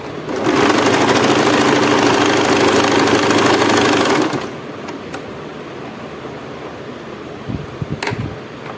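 A sewing machine runs a fast steady whirring stitch through fabric for about four seconds, loud and close, then stops, leaving faint handling clicks and rustles.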